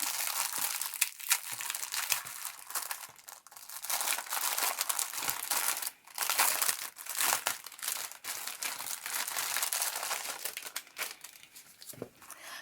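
Sealed plastic packaging around a set of cash envelopes is torn open by hand, making steady close crinkling and rustling with bursts of tearing that run on without pause.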